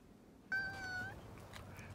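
A house cat gives one clear, drawn-out meow, close and fairly loud, rising from a quiet room and fading into faint background noise.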